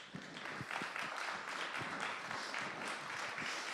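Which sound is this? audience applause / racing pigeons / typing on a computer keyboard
audience applause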